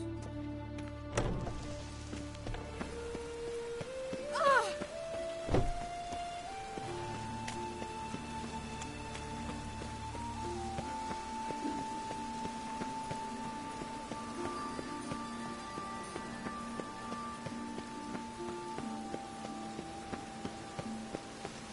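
Steady rain falls in the Witcher 3 video game, a constant soft patter that runs the whole way under a layered musical score, with no talking.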